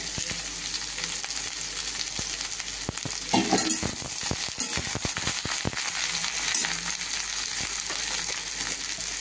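Snake gourd frying in oil with cumin seeds and green chillies, a steady loud sizzle with crackles, plus clattering stirring scrapes across the pan partway through.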